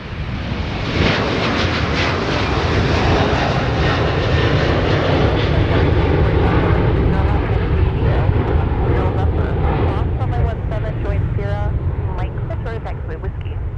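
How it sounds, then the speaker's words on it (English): Delta flight 152, a jet airliner bound for Paris, departs Minneapolis airport on a windy day with a loud, sustained engine roar that builds and then thins as it climbs away, while voices talk over it. "Here's Delta 152. Now departing to Paris."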